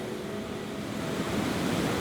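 Rough sea waves at Cove Harbour near Aberdeen, Scotland, a steady close roar of surf and broad wash of breaking water with some wind, no voices.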